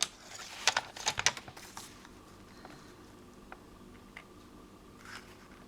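Scissors cutting out a large botanical book page for a junk journal, with a quick series of crisp snips near the start and then a few scattered faint snips and paper rustles.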